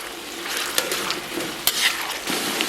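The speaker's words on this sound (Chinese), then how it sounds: "然后咱们小火给它炒出香气" Bean paste, sweet bean sauce and soybean paste sizzle softly in a wok over low heat, with a spatula scraping and stirring and a couple of sharp clanks against the pan, close and continuous.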